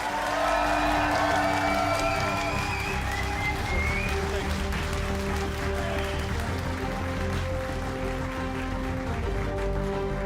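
Audience at an esports final of the Arozzi NLC Winter Split applauds and cheers for Los Ratones, a steady dense roar of clapping and shouts over ten seconds, with speech and music audible underneath.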